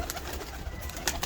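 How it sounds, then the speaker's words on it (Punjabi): Old domestic pigeons coo softly in a short burst, with a few faint wing flutters and low murmurs close by. "ਔਰ ਕਬੂਤਰ ਦੇਖ ਲਓ"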